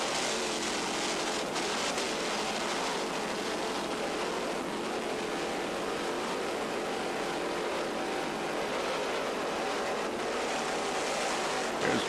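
A 41-foot Apache offshore racing powerboat, twin 1040 inboard engines with Mercruiser drives, at the Key West offshore race: a loud, steady broadband roar of engines and rushing water that holds unbroken for the whole span, with no talk.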